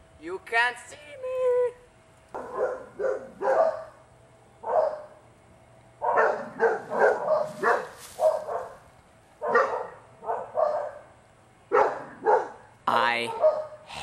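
A dog in a video game barks over and over in short uneven bursts, loud and close, with brief pauses between volleys and a whimpering yip near the end.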